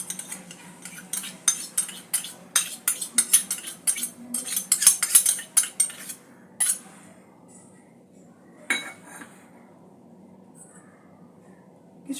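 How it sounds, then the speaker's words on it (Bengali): Ghee being whisked in a bowl, heard as a quick run of close clinking, scraping strokes of metal against the bowl that thin out into a few isolated knocks and then quiet. "ঘিটা আর একটা বোলের মধ্যে আমি একটু ফেটিয়ে নেব"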